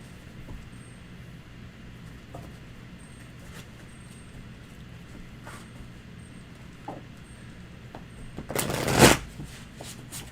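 Deck of tarot cards being shuffled during a reading, one quick crisp riffling burst near the end after a quiet stretch with faint room and traffic-like background.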